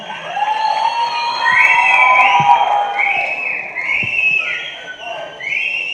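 An audience at a film trailer launch cheers loudly, with rising whoops and shrill whistles over a continuous crowd roar that swells and dips over several seconds.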